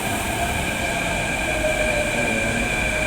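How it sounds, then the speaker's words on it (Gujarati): A train pulls into a railway station with a steady, loud rolling rumble and faint whining metallic tones, heard close by with no voices. "ટ્રેન પણ આવી ગઈ છે"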